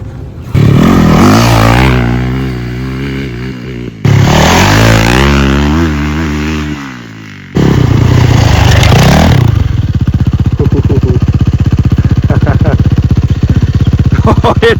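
A Yamaha YZ450F dirt bike engine is revved hard in loud, rising sweeps, then drops into a fast, steady idle with a rattling clatter, close by, with voices faintly underneath.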